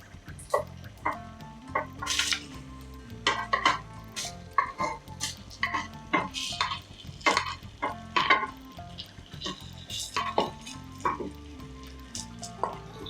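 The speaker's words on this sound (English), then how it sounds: "give this all a really good stir" Chicken pieces sizzle in masala and ghee in a hot pan while a utensil stirs and scrapes through them in uneven strokes, close up.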